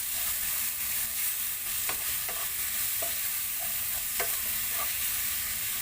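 A vegetable biryani mixture gets stirred in a pan under a steady, even sizzle, with a few light spoon taps and scrapes against the pan at irregular intervals, close and moderately quiet.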